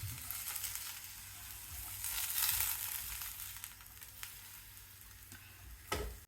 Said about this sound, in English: add lady's finger 100 grams. Fry until soft.